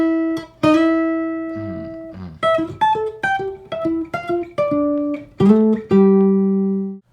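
A solo guitar plays a split-octave riff, in clean, separate notes that alternate between high and low with short gaps and sustained endings. The sound is close and clear, with no talking.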